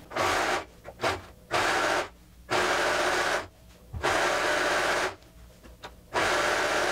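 An overlock serger stitches a fabric edge in four loud, even whirring runs of a second or more each, separated by short pauses, close and with no talking.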